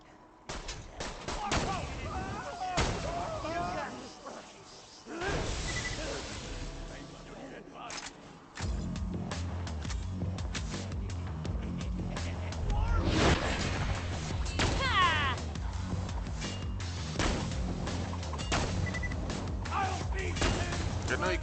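Gunfire in Borderlands 2 shooting through cages, with sharp repeated shots and heavier booming blasts mixed among dense game sound effects.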